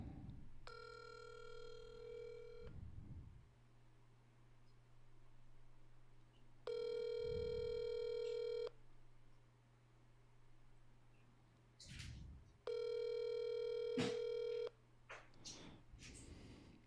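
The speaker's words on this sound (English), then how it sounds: "I'm going to double dial this guy today." A telephone call to a landlord, with three separate spells of a steady ringback-like tone about two seconds each, separated by quiet gaps and brief clicks.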